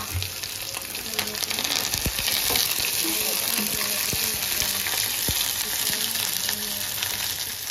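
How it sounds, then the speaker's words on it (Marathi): Garlic, ginger and green chilli with coriander stems sautéing in a pan, a continuous close sizzle of frying with occasional stirring scrapes and a faint background voice. "लसूण आणि अद्रक घालून घेऊ आणि कोथिंबीरचे दांडे ते परतायचे"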